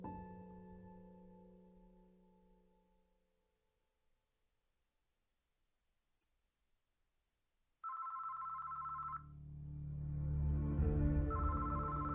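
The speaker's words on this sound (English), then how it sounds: "Susan's father, Joe Atkins, was at home when his phone rang" After a long quiet stretch, a telephone rings in a warbling electronic trill, stops, then rings again over a low rumbling background.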